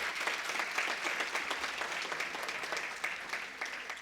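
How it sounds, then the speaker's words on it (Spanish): Steady applause from an audience of participants at a university panel discussion marking World Autism Awareness Day, dense and even, filling the whole stretch without a break. "Fuerte el aplauso para ustedes."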